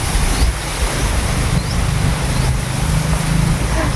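Wind blowing outdoors makes a loud, steady rush with a deep rumble underneath, running unbroken from start to finish with no voices.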